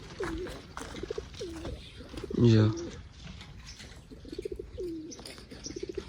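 Pigeons coo in a series of soft, repeated calls near the microphone, with a short burst of wing flapping partway through, while a person speaks over them.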